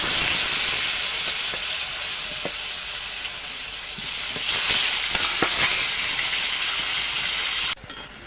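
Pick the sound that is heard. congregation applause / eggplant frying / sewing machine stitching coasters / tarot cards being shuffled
eggplant frying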